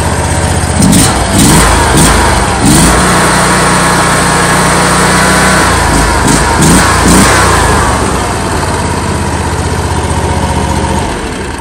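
A long tail mud motor on a 16-foot boat runs loud and close, not fully warmed up, idling with a rough steady drone and a few brief revs near the start.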